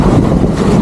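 Strong wind buffets the microphone in a steady low roar, with a rushing, watery wash underneath, as if out on open water.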